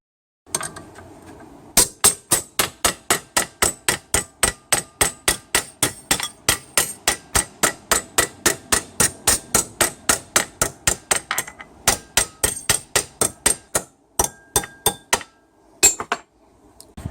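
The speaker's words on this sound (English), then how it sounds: "So I'll just put a little bend in that in the vise." A transmission cooler line bracket clamped in a vise is hammered into a bend, giving a long run of sharp, evenly spaced metallic blows, loud and close, with a brief pause near the end before a few final strikes.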